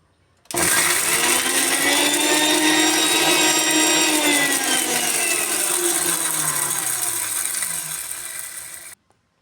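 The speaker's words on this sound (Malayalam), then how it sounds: "ആദ്യം നമുക്ക് വറ്റൽമുളകൊന്ന് മിക്സിയുടെ ജാറിലിട്ട്" Electric mixer grinder crushing dried red chillies in its jar: a loud, steady motor whine with rattling, running several seconds and cutting off abruptly near the end.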